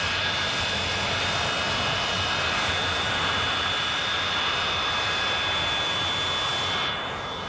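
Steady, loud jet aircraft noise holds throughout as a plane arrives, with a constant high whine over broad engine roar, fading slightly at the very end; no talk.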